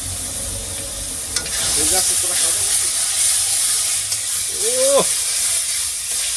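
Chicken kosha with green chilies sizzles in a pan as it is stirred, a steady close frying hiss with soft scraping and a short voice breaking in partway.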